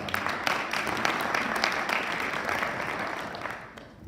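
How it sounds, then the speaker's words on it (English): Applause from an audience at a symposium on inland ports, a steady patter of many hands clapping at moderate volume, fading slightly toward the end. "Give him a applause."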